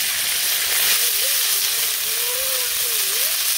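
Cauliflower florets frying in hot oil in a village kitchen produce a loud, constant, even hiss, with a faint wavering tone drifting beneath it.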